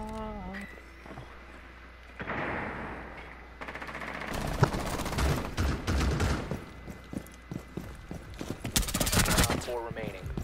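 Bursts of rapid gunfire in a multiplayer shooter video game, a few clustered volleys of sharp shots, loud and close, with players talking over and between them.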